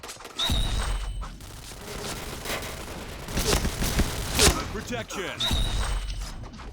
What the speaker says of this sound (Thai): ยิงยากอยู่นะ ลูกซองเนี่ยเหมือนมันไม่ค่อยแรง